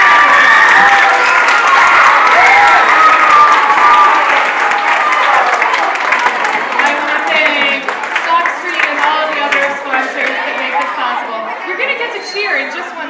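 An audience of seventh-grade students in a theatre applauds teachers and administrators, loud clapping and cheering that gradually thins into chatter, with voices talking over it.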